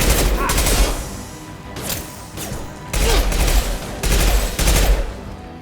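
Rifle gunfire in the video game Mass Effect 2 Legendary Edition: loud, close bursts of automatic shots come in separate volleys with brief pauses between them.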